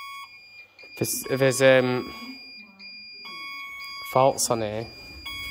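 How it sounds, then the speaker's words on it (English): A high steady beeping alarm tone sounds throughout the inside of an abandoned nightclub, continuing under and between bursts of close speech from people in the room. "Let's stop that beeping."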